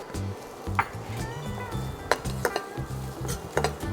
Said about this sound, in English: You have to saute it a little bit.